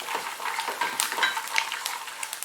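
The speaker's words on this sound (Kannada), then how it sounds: "ಸಾಸಿವೆ ಸಿಡಿಯೋ ತನಕ ಚೆನ್ನಾಗಿ ಹುರ್ಕೊಳ್ಳೋಣ" Peanuts with mustard and cumin seeds fry in hot oil for betel leaf rice, a steady crackling sizzle dotted with sharp spluttering pops from the mustard seeds, close and fairly loud with no talking.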